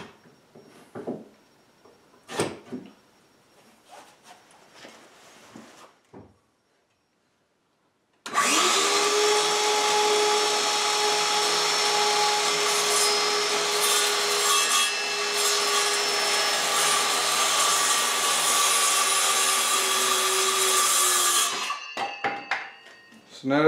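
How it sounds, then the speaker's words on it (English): A skill saw cuts wood for a chicken coop roof with one long, loud, steady whine of about thirteen seconds, close up. Brief knocks and handling sounds come before the cut and after it. "Well, actually, I can manage to do this with the skill saw."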